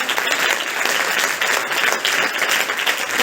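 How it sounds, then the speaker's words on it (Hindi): An audience at a National Voters Day gathering in India breaks into applause, dense, sustained clapping from many hands filling the hall evenly, with no speech over it. "पहले इस बात के लिए तालियां बजाइए कि भारत को ये अवसर मिला है।"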